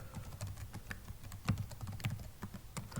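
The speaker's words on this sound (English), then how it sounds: "Simply type in your username and password" Rapid clicking of a computer keyboard as a username and password are typed in, a dense run of close, crisp keystrokes without pause and no talking.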